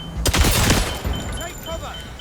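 Gunfire and a grenade blast in the video game 007 First Light, a dense, loud cluster of shots and booms early on that fades into a rumbling battle backdrop.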